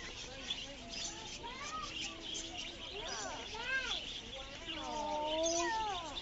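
Pet birds chirping indoors, a series of rising and falling whistled tweets scattered across several seconds, fairly faint, with people talking quietly in the room.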